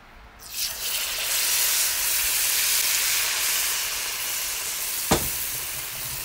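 Cod fish fritters (bacalaitos) frying in hot oil, giving a loud, steady sizzle and hiss that starts abruptly and runs throughout, with a brief sharp clink near the end.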